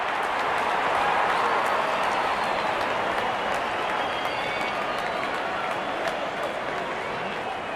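A good-sized crowd at a Big Bash League cricket match between Perth Scorchers and Hobart Hurricanes cheers and applauds steadily as the openers walk out, a dense, continuous wash of clapping and crowd noise without pause.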